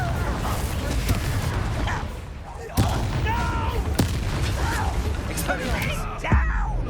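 The Confringo explosive spell is cast in the video game Hogwarts Legacy, setting off sharp, booming blasts amid a continuous roar of combat noise.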